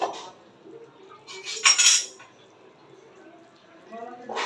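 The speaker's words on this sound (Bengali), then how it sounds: "এখন মাছগুলো দিয়ে দিব।" Rohu fish pieces go into a cooking pot for a thin fish curry: a short clatter of utensil against pot midway, set against a quiet kitchen background.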